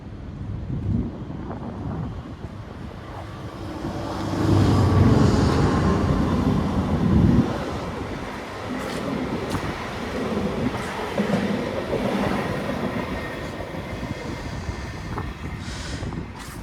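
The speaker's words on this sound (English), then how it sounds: "We got a Via train now." A Via Rail passenger train, one of the new Siemens trains, rumbling past on the tracks in Toronto's Riverdale neighbourhood, its steady roar swelling as it nears and holding as the cars roll by, with faint clicks and wind.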